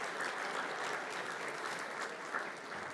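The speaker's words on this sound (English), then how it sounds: "Can we please have a final round of applause for Nick Becker, Terry McFlynn, Joe Knowles and Nando Pijnaker." A luncheon audience at the North Harbour Club gives a dense, steady round of applause, many hands clapping together throughout without a break.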